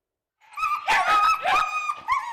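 Several shelter dogs yelp and whine at close range in a quick, high-pitched burst of overlapping cries and barks, following a moment of silence.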